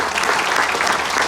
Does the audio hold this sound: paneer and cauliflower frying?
no